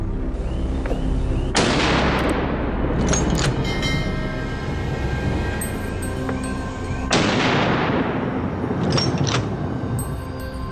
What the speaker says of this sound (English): In a flash, I raised my rifle, locked onto one in the group, and fired.